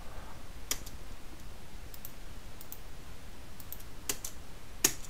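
AutoCAD commands are entered on a computer keyboard as sparse, faint key clicks, single presses and short pairs spread over a quiet background with low hiss.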